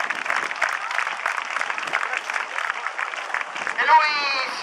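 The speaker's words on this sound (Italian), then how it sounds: "Un altro grande applauso" Beachfront crowd at an air show applauding a solo jet aerobatic display, steady clapping throughout with an announcer talking over it and a jet engine whine rising near the end.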